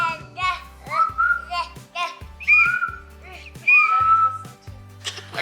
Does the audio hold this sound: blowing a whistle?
yes